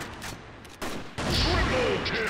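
Gunfire from an AWM sniper rifle in the Crossfire shooter game, with two sharp shot bursts followed by a longer, loud crackling blast of game effects.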